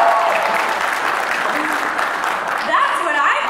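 Applause from a convention audience at a voice-acting panel fills the room, a steady dense wash of clapping with some crowd voices mixed in, heard loud and close throughout.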